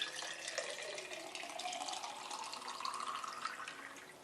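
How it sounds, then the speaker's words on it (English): Water pours steadily into a mug, a continuous splashing, filling flow heard up close for several seconds with no talking. "Pour a nice mug of water."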